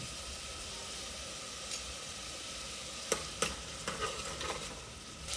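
Clove, cinnamon and star anise fry in hot oil in a pan for an egg curry, a steady faint hiss with a few scraping stirs and soft pops toward the end, with no voices.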